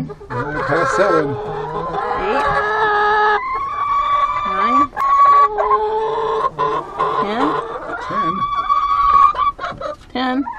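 Chickens cluck and squawk close by in a barnyard after a snowfall, in a busy stream of overlapping calls, loud and near, with a voice speaking between them.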